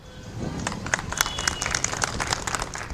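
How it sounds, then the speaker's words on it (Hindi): A seated audience at a staged election discussion show in Pune gives a steady round of applause, with many hands clapping densely and evenly throughout. "पहले ऑडियंस के लिए तालियां।"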